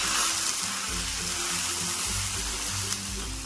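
Milk poured into a pan of fried rusk for a rusk halwa sets off a steady, close sizzling hiss that runs unbroken throughout, over a soft low tonal hum, with no talking.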